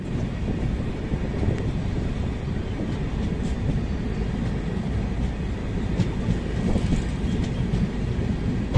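Mysore Shatabdi Express passenger train running steadily on its tracks, a continuous loud rumble and rattle of the carriage with faint intermittent clicks, heard from inside throughout with no voices.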